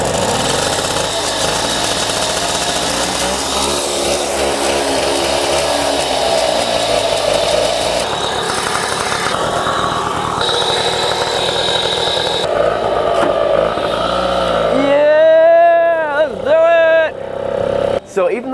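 A roughly 80-year-old WW2 motorcycle engine runs loudly and steadily close by, then sputters and surges near the end, with people talking over the running engine.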